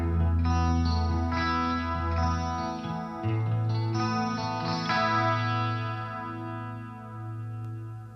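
Heavily processed electric guitar with shimmering chorus, echoing delay and lush reverb, sustained chords ringing out continuously, loud and alone.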